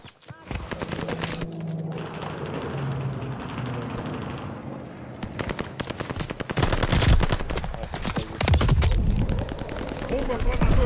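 MP40 submachine gun fire in the multiplayer of Call of Duty: Vanguard, with dense rapid automatic bursts close up, mixed with game effects and a voice talking over it.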